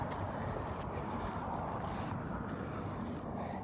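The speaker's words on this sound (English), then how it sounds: "you're gonna hear some road noise" Steady broadband rumble and hiss of road traffic nearby, a continuous wash of passing vehicles with no voices.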